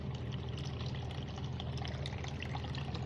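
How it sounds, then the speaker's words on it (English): Water poured steadily onto yellow garri to soak it, a continuous close splashing and trickling fill with no break and no voices. "Put water to soak it."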